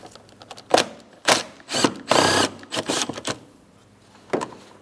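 A screwdriver works loose the Phillips head screws on top of the air filter housing of a 2003-2007 Cadillac CTS, giving a series of close, sharp clicking and ratcheting bursts separated by short pauses.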